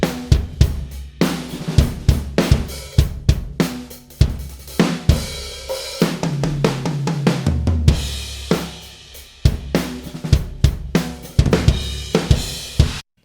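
Drum kit captured through a pair of washy, thin-sounding room microphones, with roomy kick, snare and cymbal hits in a steady groove, reverberant and loud with no voices.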